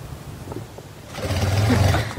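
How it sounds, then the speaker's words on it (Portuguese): A straight-stitch sewing machine runs over heavily gathered fabric, starting with a few soft clicks and then settling into a steady, close whirring buzz. "Agora eu vou passar na máquina reta, porque ele é bem franzido."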